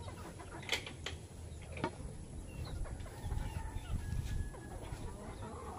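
A protective, aggressive mother hen clucks repeatedly in a farmyard. The clucks are close and steady, and a faint background rooster-like call sits in a low outdoor rumble.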